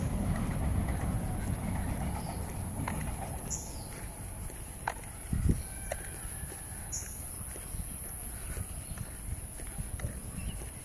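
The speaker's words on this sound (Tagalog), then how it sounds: "Train yun. Train." A train passes at a distance during an outdoor walk. Its low rumble sits under the ambient noise, with a few faint clacks and knocks scattered through.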